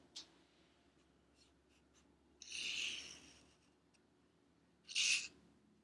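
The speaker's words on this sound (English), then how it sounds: "This is how you write an uppercase T." Two short, close scratchy strokes of a pen or marker writing an uppercase T on a surface, separated by quiet pauses.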